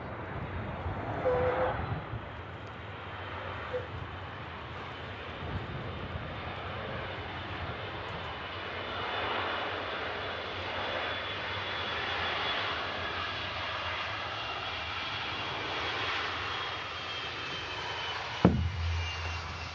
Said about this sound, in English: Awesome to see an Iceland Air 757.